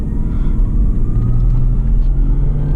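A 2002 Lexus IS300 with a manual transmission and an AEM intake driving on the road, giving a loud continuous low engine rumble heard close from inside the car.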